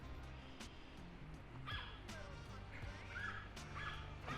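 Dogs at a dog beach on a lakefront, with scattered short yips and small barks at a distance over steady wind and water noise, with a few faint high whines.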